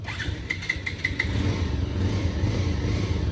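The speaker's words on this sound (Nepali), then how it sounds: "अब बाइक स्टार्ट गर्दैछु" A motorbike that has trouble staying started fires up and revs under the throttle, a few sharp blips early on settling into a steady, loud idle rumble close by.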